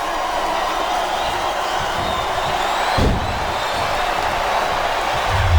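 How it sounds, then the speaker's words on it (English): Steady capacity crowd noise in the wrestling video game WWE SmackDown vs Raw 2008, a continuous roar with a thump near the middle, swelling slightly toward the end. "It sounds like this capacity crowd has something on their minds."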